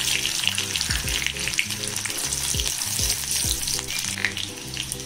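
Chopped green chilies and butter frying in oil in a pan, a steady close sizzle with stirring scrapes mixed in throughout, and no one talking.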